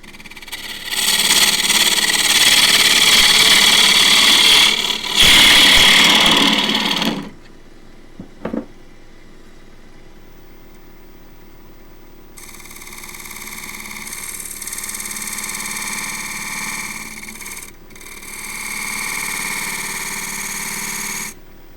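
A wood lathe spins a ripple ash crossgrain box while a 3/8 spindle gouge cuts, a loud steady whir and scraping hiss that stops, falls silent with a brief knock, then resumes more softly.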